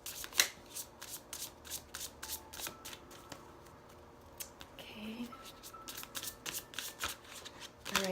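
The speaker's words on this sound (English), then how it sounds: "cards don't want to shuffle" Tarot cards shuffle by hand in a quiet room, a run of quick crisp riffling bursts that come in uneven rhythm, pause briefly midway, then resume.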